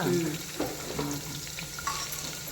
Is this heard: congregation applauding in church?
no